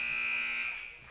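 End-of-period buzzer at a girls high school basketball game, one loud sustained electronic tone that rings steadily for most of a second and then fades, with no talk over it.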